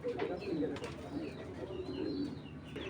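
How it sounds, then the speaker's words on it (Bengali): Genda pigeon hen, an old-style Genda breed, cooing in a repeated low, rolling pattern close by, with faint higher chirps of other birds behind and a steady murmur of background noise. "দর্শক এইটা একটা গেন্দা কবুতর, গেন্দা মাদি।"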